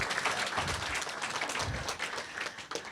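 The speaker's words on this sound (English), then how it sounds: "let's have one more round of applause for Michael." An audience at a Diversity Circle community gathering applauds an MC, a dense steady wash of clapping from many hands that holds for about three seconds and thins slightly toward the end.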